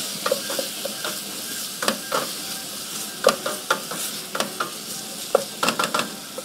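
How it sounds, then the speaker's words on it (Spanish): Sofrito sizzling steadily in a pan while a utensil scrapes and stirs it, giving irregular close knocks and scrapes over a constant frying hiss. "No olvidemos nuestro sofrito. Que ya está a punto."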